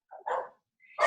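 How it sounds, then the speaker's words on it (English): A dog gives a couple of short, sharp barks in quick succession with a brief silent gap between them, close and clear. "Barking."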